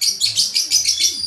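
A parrot chirps close and loud in a bird house, a quick series of bright, repeated tweets in a steady rhythm with no talking.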